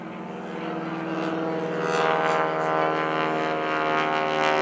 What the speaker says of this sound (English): that's the tips of the propeller going supersonic